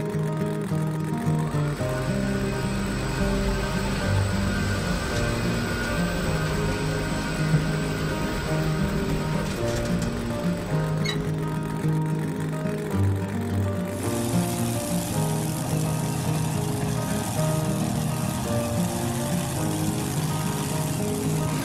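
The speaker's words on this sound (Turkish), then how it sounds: "Motoru çalıştıralım." A cartoon monster truck engine starts and runs on the way to a stadium. A continuous droning motor hum holds steady throughout, loud and close, and changes tone near the end.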